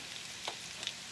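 Potatoes fry and crisp in a pan with a soft, steady sizzle and a couple of faint crackles, quiet and close.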